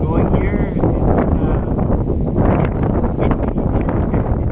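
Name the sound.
high winds at a BC lighthouse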